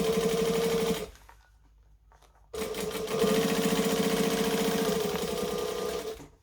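A sewing machine runs decorative top stitching on a bag, a fast steady mechanical whir with rapid needle ticks, pausing for about a second and a half before resuming at full pace.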